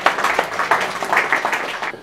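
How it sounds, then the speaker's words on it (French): An audience at a formal opening ceremony claps loudly, a dense burst of hand-clapping that stays steady for about two seconds, then cuts off abruptly. "Oui, on applaudit très fort pour elle."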